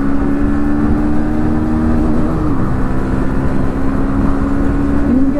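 A Bajaj Pulsar NS160 motorcycle fitted with a new chain set runs loud and close on a top speed run, its engine whine droning steadily with a small pitch dip and recovery midway that suggests a gear change.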